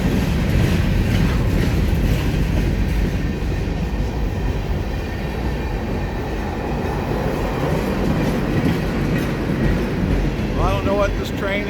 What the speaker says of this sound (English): This is unusual for a train with this many cars using the older style GP locomotives